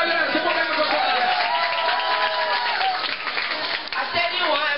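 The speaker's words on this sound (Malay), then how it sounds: "Okay, tepuk tangan for Wan." An audience at a cookbook launch in Singapore claps for Chef Wan, producing sustained, full applause with crowd cheering throughout.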